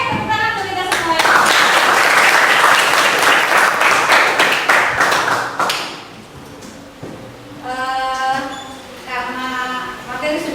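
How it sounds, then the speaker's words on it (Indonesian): Classroom applause from students in an Islamic religious education lesson, a dense burst of clapping for several seconds that fades out, followed by a teacher talking. "Oke, tepuk tangan untuk kita semuanya."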